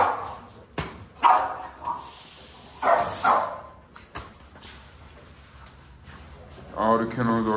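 Dogs barking in clean kennels on a stormy night, several sharp barks in scattered bursts with quiet gaps, ending in a louder run of barking.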